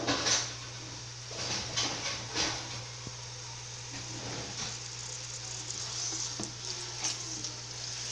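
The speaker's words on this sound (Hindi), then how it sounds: "मैं चिकन जो है इसको फ्राई कर रही हूँ" Chicken sizzles gently in a little oil in a pan, a quiet steady crackle broken by soft scraping stirs and brief louder sputters, with a low hum beneath and no talk.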